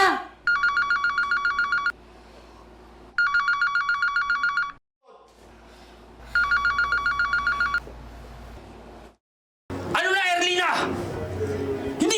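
A telephone rings in repeated electronic trilling bursts, three rings separated by pauses, fairly loud and near, followed by a voice speaking after the ringing stops.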